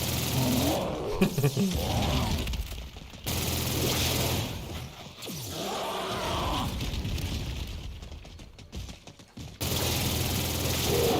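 A gun in Call of Duty Infinite Warfare Zombies fires in rapid, sustained automatic bursts, broken by short pauses, loud and close with a gritty, rattling texture.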